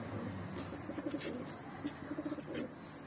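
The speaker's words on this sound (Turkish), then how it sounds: "Bu kuş." A breeding male pigeon coos softly in repeated low, throaty bursts against a steady noisy background.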